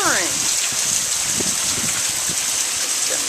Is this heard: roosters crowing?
no